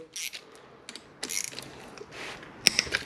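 Short bursts of ratcheting clicks as a wrench loosens a stator cover bolt on a Suzuki DRZ 400 engine, close and fairly quiet, with a couple of sharper metallic ticks near the end.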